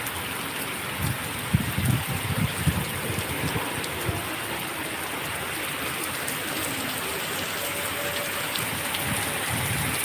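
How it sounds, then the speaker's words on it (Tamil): Heavy rain falls steadily, a dense, even hiss of drops on surfaces close by, continuous throughout with a few heavier pattering bursts early on and no talking. "ஆமாம்மா நல்ல மழை பெய்துச்சு"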